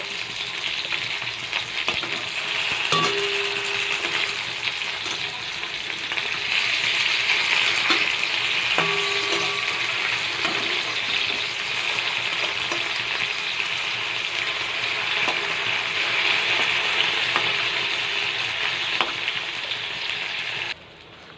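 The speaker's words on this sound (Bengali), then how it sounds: "এবার এই যে বড়াগুলো ভেজে নেব" Sidol shutki fritters made with ash gourd leaves deep-frying in hot oil, a steady close sizzle and crackle running throughout with a few soft clinks, no voices.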